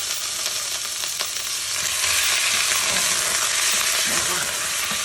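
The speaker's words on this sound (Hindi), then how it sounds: "हम इसके साथ फ़ौरन ही गोश्त डाल देंगे।" Beef pieces dropped into hot oil for nihari, giving a loud, steady, close hiss of frying that swells slightly after a couple of seconds and carries on without pause, with no talking.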